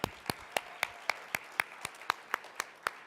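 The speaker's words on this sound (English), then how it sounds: "A round of applause for everyone here." A few sparse, evenly spaced claps ring out one at a time at a conference gathering, crisp and fairly close against a quiet room, with no voices over them.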